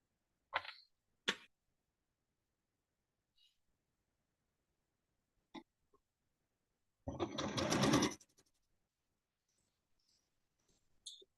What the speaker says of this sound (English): we're going to sew this one together first